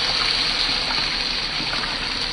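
Starchy pasta water pouring steadily into a pot of tomato puree, a continuous close watery rush without a break and with no speech.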